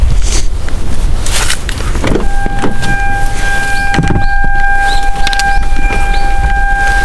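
A car's power folding mirrors motoring in and out, a whirring electric hum with a steady tone that starts partway through, close and loud over mechanical clicks and background rumble.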